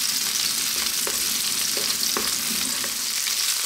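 Garlic frying in a pan over medium heat, a steady close sizzle with light scraping strokes as it is stirred, continuous and fairly loud with no talking.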